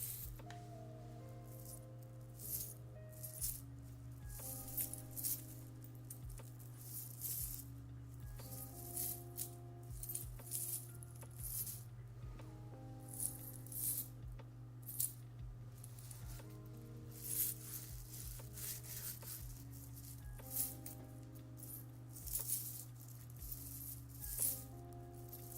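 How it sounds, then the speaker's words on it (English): A woven pants chain is handled close to the mic, giving repeated soft metallic rattles and clinks like jangling keys in irregular bursts, quiet against a constant low hum. "and then my pants chain. Kind of sound like keys."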